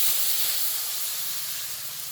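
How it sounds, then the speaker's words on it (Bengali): Water splashed into a hot kadai of oil with dry red chilli, bay leaf and cumin, setting off a steady, loud steamy hiss that fades slightly over two seconds, with no talking. "জলটা দিয়ে দিচ্ছি।"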